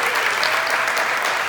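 Warm audience applause at a holiday jazz concert, a dense, steady wash of many hands clapping throughout, fairly loud and without pauses.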